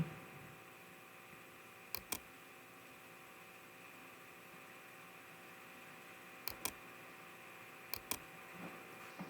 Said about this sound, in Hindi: तो लाइव फोटो पे क्लिक करिए।